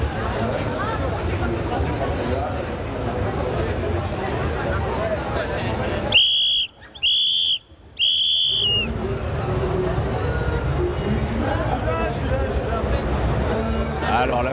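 Three short, shrill whistle blasts sound at a crowded convention event in France, cutting through steady crowd babble that drops away briefly as they ring out, with chatter resuming afterward.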